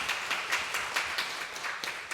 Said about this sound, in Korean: 우리 박수로 축하하겠습니다.